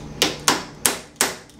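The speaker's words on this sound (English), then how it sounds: "I need something to tap with. It's not a hammer, it's a really nice little T-handle" Four sharp taps of a small T-handle driver used as a mallet while dry fitting parts of a knife handle, evenly spaced, close and crisp with short ringing decays.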